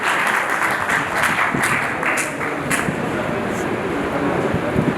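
A crowd at a ceremony honouring community members in Rajasthan claps steadily, a dense wash of applause holding evenly throughout with faint voices beneath it.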